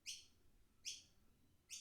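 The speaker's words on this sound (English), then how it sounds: "Stop chirping outside my window." A bird outside a window gives three short, bright chirps spaced evenly apart, clear against a quiet background.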